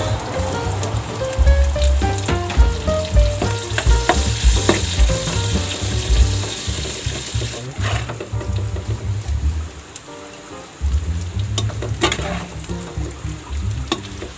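Onion fries loudly in a pan with browned garlic for Ilocano pinakbet, a dense, continuous sizzle broken by frequent stirring scrapes and a brief lull near the end.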